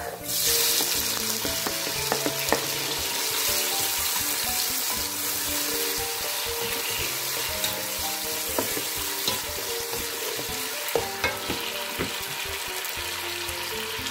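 Beans fry in a pan with garlic as tomato goes in, giving a steady sizzle with bursts of stirring and scraping that run throughout, close and moderately loud.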